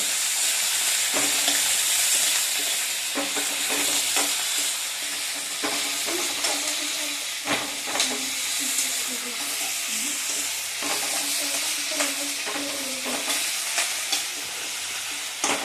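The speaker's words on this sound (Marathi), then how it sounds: "हे सर्व आपण छान भाजून घ्यायचं आहे" Green chillies and garlic roast and sizzle in a pan for spicy Kolhapuri thecha, a continuous close frying hiss with frequent scrapes and stirs of a spatula throughout.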